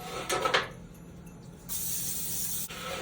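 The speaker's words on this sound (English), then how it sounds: "I'm gonna go ahead and spray my pan with my Pam again" Two short bursts of Pam cooking spray hiss close by onto a pan, followed by a longer, steady spray lasting about a second.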